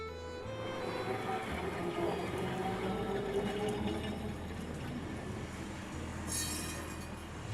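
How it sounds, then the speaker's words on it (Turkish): An old number 28 tram rumbles past on rails in Lisbon's Alfama district, steady and moderately close, with metallic wheel noise and a brief high squeal near the end. "işte bir adet 28 numaralı tramvay"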